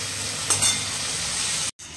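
Taro pieces hit a pan of frying vegetables with potato and pointed gourd, giving a steady close sizzle while being stirred. A couple of brief scraping accents and a short drop near the end interrupt it, with no voices.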